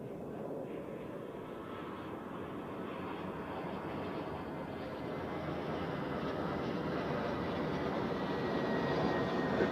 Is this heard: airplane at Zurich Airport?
yes